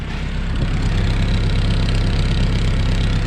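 A 1998 Toyota Camry fitted with a new cheap eBay exhaust kit idles steadily nearby, a continuous low rumbling drone with an even, unbroken tone.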